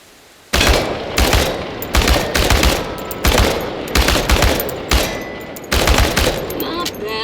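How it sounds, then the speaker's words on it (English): Automatic gunfire at cans in the video game Chernobylite, loud rapid bursts of rattling shots in several strings with short pauses between. "The biggest challenge is compensating for recoil in automatic firing mode."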